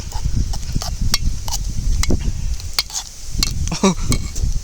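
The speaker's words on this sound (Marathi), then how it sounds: "याला पटापटापटा फिरवून घेऊत" Maggi noodles are stirred briskly in a pot outdoors on a farm, with a spoon scraping and clinking against the metal over a soft sizzle, plus quick scrapes in irregular rhythm.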